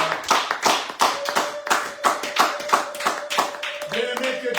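A church congregation claps in rhythmic unison, sharp repeated hand claps at a steady beat, close and lively, with a sustained voice or tone held underneath.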